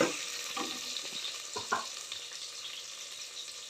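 Onions frying in a pan with ginger paste for carrot rice, a steady bright sizzle broken by a few clinks and scrapes of stirring, close and moderately loud.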